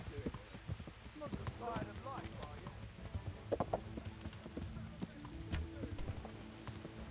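Horse hooves clip-clopping at a gallop in the video game Kingdom Come: Deliverance, a fairly quiet rhythmic drumming that runs throughout while someone talks over it.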